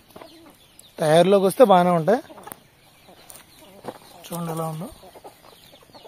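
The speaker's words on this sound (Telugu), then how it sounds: "ఇది కోడిపిల్ల బాగానే ఉంటుందండి" A young chicken raised for sale gives two loud, close, drawn-out harmonic calls, the first longer and the second shorter, with someone speaking quietly between and around them.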